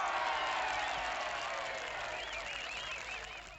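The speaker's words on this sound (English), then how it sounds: "A round of applause for Sharon." Audience applause for a volunteer named Sharon at a staged magic-style show, a broad steady wash of clapping that gradually thins toward the end, with faint voices and cheers mixed in.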